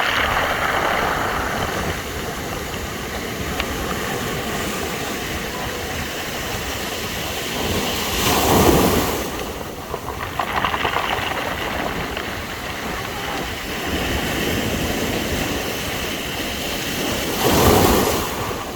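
Continuous surf rushing on a shore with a gritty, rattling clatter of stones rolled by the water, swelling louder twice as waves break.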